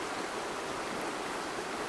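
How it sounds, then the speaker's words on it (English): Heavy rain falls steadily on a car tent at a campsite, a dense, even hiss that fills the clip with no voices. "Can you hear this rain?"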